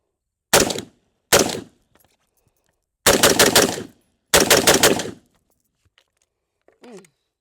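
AR-15 and AR-10 rifles fire loud, close shots: two single reports, then two rapid bursts of several rounds each, followed by faint clinks and a brief voice.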